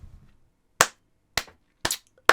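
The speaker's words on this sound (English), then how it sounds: "And despite my applause" Four sharp hand claps from a single person, spaced about half a second apart and sounding close and crisp, following a short stretch of quiet.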